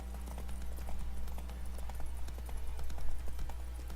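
Steady clip-clop of a horse's hooves galloping in The Witcher video game, a continuous rhythmic patter over a low game hum, with no voices.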